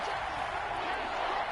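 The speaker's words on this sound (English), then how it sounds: "this crowd gets up making some noise" A stadium crowd roars steadily in a football video game, a dense sustained wash of cheering noise throughout, with no distinct claps or calls standing out.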